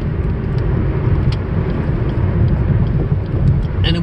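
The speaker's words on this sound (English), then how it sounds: "as you can hear, I kind of hit the gas" A car engine revs steadily as the driver presses the accelerator, a loud, continuous low rumble with no clear pauses throughout.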